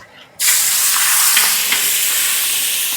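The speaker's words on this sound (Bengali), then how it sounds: "পেঁয়াজ আমাদের গোল্ডেন ফ্রাই হয়ে গেছে" Chopped onion dropped into hot oil with dried red chilli, whole cumin and panch phoron bursts into a loud, close sizzle that starts abruptly and then holds as a dense, steady hiss with faint stirring clicks.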